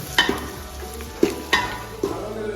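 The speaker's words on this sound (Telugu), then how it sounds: "చెట్టు నుంచి పీకిన కరివేపాకు వేసుకోవాలి. తర్వాత నీట్గా కలిపెట్టాలి." Curry leaves stirred into frying chicken curry in a pan, with a steady sizzle beneath a few distinct scraping strokes of the spoon, close and moderately loud.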